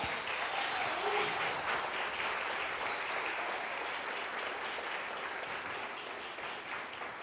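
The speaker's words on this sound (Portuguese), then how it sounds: "Dê uma salva de palmas." A church congregation applauds, a sustained wash of clapping from many hands filling the room and holding steady before easing off slightly toward the end, with a faint tone ringing briefly early on.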